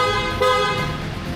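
A PIAA horn fitted to a Vespa Primavera scooter sounds one sustained, loud, close blast lasting more than a second, with a bright, steady tone and no talking over it.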